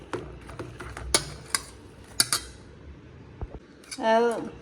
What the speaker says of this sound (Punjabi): ਇਹ ਅਸੀਂ ਲਿਆ ਜੀ ਅਦਰਕ ਲਸਣ ਦਾ ਪੇਸਟ ਹੁਣ ਅਸੀਂ ਇਹਨੂੰ ਮਿਕਸ ਕਰਾਂਗੇ